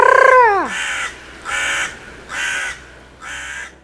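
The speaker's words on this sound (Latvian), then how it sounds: "No meža ieradās lielā melnā vārna." A large black crow flying in from a forest caws four times in harsh, evenly spaced calls, loud and close, after a brief falling whistle-like tone at the start.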